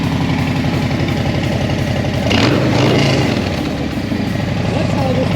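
Loud, close 2020 Harley-Davidson Low Rider S fitted with a Stage 1 exhaust, a deep steady V-twin rumble that swells briefly mid-way as the throttle is blipped, then settles back to idle.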